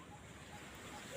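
Steady wind rushing past the microphone in low rumbling gusts, with no voices, building slightly toward the end.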